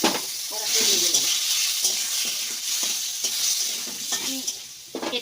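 Chicken soup meat being stirred in a wok with a little oil, a steady sizzle under repeated scraping strokes of the utensil, close and fairly loud, with no talking.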